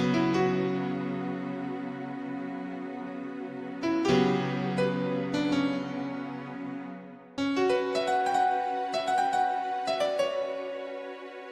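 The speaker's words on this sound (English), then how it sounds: "One of the classic presets that's in every single PCM synthesizer is the keys and string preset" Roland XV5080 keys and string preset, three piano layers over a string layer, plays a run of sustained chords with bright piano attacks over a smooth, steady string bed, changing in three phrases with no voices.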